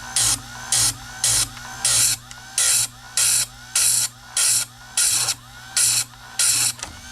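Sharpening a rollover chainsaw chain tooth with a powered grinder, about a dozen short bursts of grinding in a steady rhythm with a low motor hum running beneath, close and loud, no talking.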